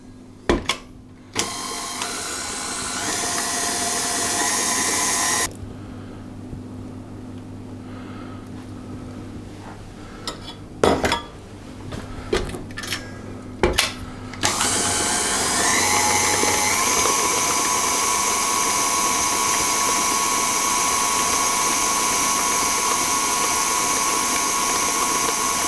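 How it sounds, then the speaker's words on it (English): An electric mixer whirring steadily as eggs are beaten into batter for Bakewell tart squares, with a pause and some clunks and scraping partway through before the motor resumes loudly. "I'll put a little bit in first, and I will mix that in."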